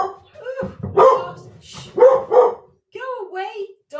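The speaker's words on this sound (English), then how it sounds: "Go away, dog." A dog barks indoors during a home Pilates class, giving several loud, close yaps and short barks in quick bursts, with a brief whiny tone between them.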